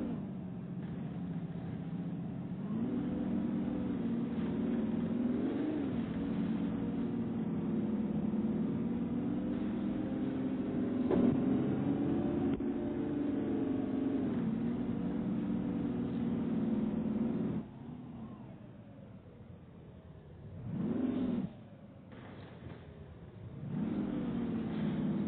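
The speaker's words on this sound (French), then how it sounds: "Là on entend le moteur bien gueuler." A car engine runs steadily and then revs, its pitch swelling and falling in a couple of sharp surges near the end; no talking.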